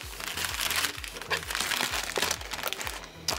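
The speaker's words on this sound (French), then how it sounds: "Je vais dire le papier crépon. Mais le papier d'emballage, là, qui est légèrement alvéolé." Slightly embossed crepe wrapping paper crinkling loudly and continuously up close as a package is unwrapped by hand, with a rhythmic low thumping underneath.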